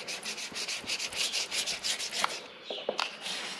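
Plastic squeegee rubs and scrapes over vinyl wrap film being applied to car bodywork, giving a series of soft rhythmic swipes, close and fairly quiet, with a few light taps near the end.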